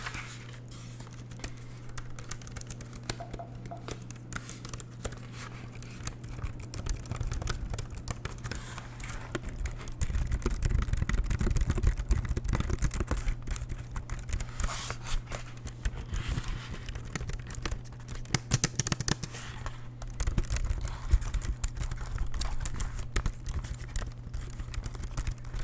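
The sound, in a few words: typing on a small computer keyboard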